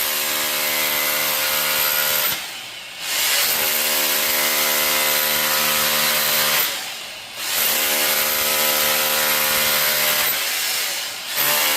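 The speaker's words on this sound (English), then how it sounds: "The world's dullest chisel, by the way." A very dull chisel scrapes and grinds against wood in long, steady strokes, three loud rasping passes separated by brief pauses, close up with no talking.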